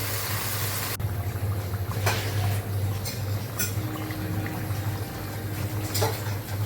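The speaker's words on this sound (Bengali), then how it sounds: "এই তো ঝোল দিয়ে আমি মাছটা দিয়ে সুন্দর করে ঝোলটা ফুটিয়ে নিচ্ছি" Fish curry gravy with fish, eggplant and potato simmers in a pan, a continuous close bubbling with a low steady hum and occasional soft clinks; no talking.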